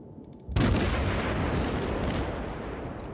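A naval gun salvo fired in World of Warships from the Japanese cruiser Hashidate: one sudden, loud, deep boom after half a second of quiet, then a long rumbling roar that slowly fades.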